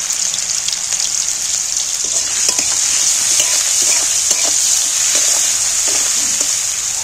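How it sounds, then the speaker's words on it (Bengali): Bitter gourd coated with salt and turmeric fries in hot oil, giving a loud, continuous sizzle with light scraping and stirring knocks scattered through it. "এইবার আমি এইগুলোকে তেলের মধ্যে ভেজে নেব ভালো করে।"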